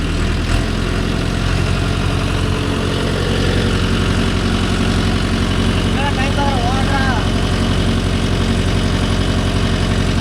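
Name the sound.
Mahindra Yuvo Tech Plus 585 DI 4WD tractor engine running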